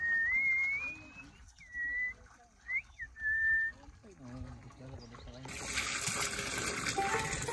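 Water gushes out from a pump on a cattle farm, a steady broadband rush that rises in the final seconds after a stretch of whistling tones and quieter background noise.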